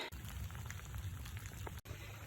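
Steady rain falls outdoors on a homestead where a driveway and gabion basket trellis are being worked on, a constant soft hiss with low rumbling texture, fairly quiet and continuous, with no voices.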